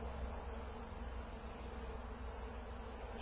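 Honey bees swarm a flowering tree in February, making a dense, continuous buzz that stays steady and fairly faint throughout, with no voices.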